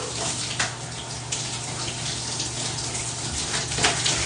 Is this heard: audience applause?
no